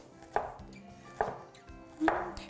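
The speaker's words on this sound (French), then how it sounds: "je vais couper ça en petits morceaux" A knife chops yucca into small pieces on a board, three separate, fairly soft thuds spaced almost a second apart, with no talking.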